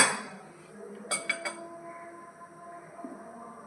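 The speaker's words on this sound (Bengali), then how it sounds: "এখন অনবরত নাড়তে হবে।" A spoon stirring winter vegetable soup thickened with cornflour in a pot: a few quick metallic clinks against the rim among quiet scraping, fairly faint.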